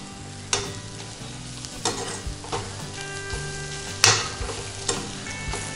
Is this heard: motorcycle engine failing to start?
no